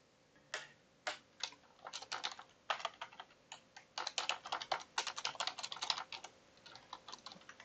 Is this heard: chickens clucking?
no